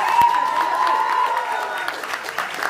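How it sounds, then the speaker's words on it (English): An audience at an MTV Nishedh season 2 event, with actor Arjun Kapoor as brand ambassador, claps together in a steady, dense round of applause filling the room, with a faint tone running underneath. "A huge round of applause for whatever."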